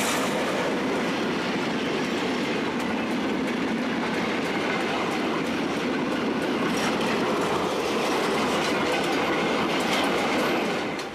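A train rolls steadily along the rails in Portugal, a loud continuous rumble with rhythmic clickety-clack and occasional faint wheel squeal, no voices.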